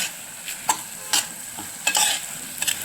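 Rice is stirred and sautéed in a pan for masala bhat, with soft scraping strokes and a light sizzle, close and fairly quiet, and no voices.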